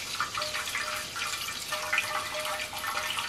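Steady rushing water from a rain catchment barrel pours and splashes into a pressure sprayer tank, a continuous hiss with a faint whine running underneath.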